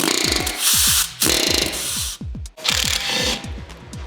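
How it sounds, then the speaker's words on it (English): A pneumatic air hammer rattles in rapid, loud bursts on a seized brake bolt of a BMW E92 M3, stopping and starting several times with a harsh mechanical chatter. "So I'm gonna jump straight to the air hammer."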